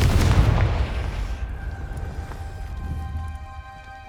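The Confringo explosive spell in the video game Hogwarts Legacy goes off as one loud, deep booming blast that rumbles and fades over a few seconds, with a faint ringing tone lingering, alone.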